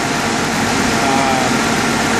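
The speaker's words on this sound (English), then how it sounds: "my idle is a lot lower than it was previously. And it sounds a lot better. The engine's a lot smoother." The engine of a 1989 Jeep Cherokee idles low and smooth after a brake booster and vacuum system replacement, a steady, even rumble heard up close with no talking.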